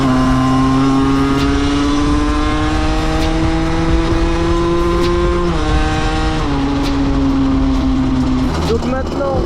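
A motorcycle engine drones loud and steady as it accelerates, its pitch climbing and then dropping sharply at each of two gear shifts, heard up close for the whole stretch.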